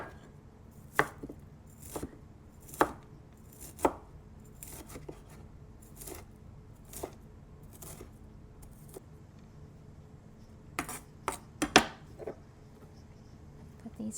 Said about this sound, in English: I'm going to chop these up a little bit.